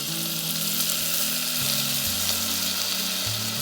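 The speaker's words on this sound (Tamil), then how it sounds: "இப்போ தக்காளி ஆட் பண்ணிக்கலாம்." Tomatoes hit golden fried onions in a pan for roadside-style parotta salna, producing a steady, close, loud sizzle over a low background hum.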